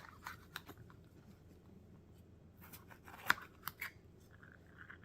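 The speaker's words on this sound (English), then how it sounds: "I'm going to take off the stems." Small scissors snip the stems off peppers in a home kitchen, a scattered series of quiet, crisp cuts, close and soft, with no talking.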